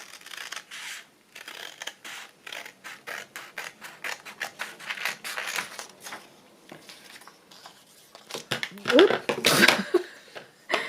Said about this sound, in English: Just a flick of the scissors and everything goes flying.